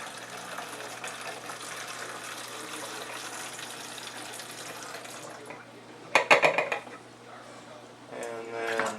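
Water pouring into a measuring cup, a steady wash of splashing for several seconds, then a few sharp clinks of the cup and a brief gush at the end.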